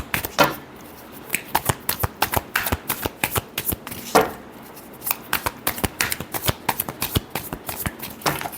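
Tarot cards are shuffled by hand, a quick crisp rhythm of riffling and flicking bursts repeating throughout, close and clear with no talk.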